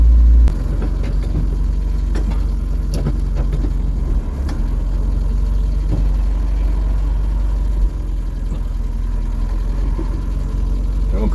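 A retro Ford car engine idles roughly while running low on fuel, a loud steady low rumble with uneven pulses and occasional stumbles, heard close up without speech.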